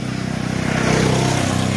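A Bajaj Pulsar NS motorcycle comes up from behind on a hill road near Pokhara. Its engine drones steadily, swelling louder as it nears and then holding at a close, even level.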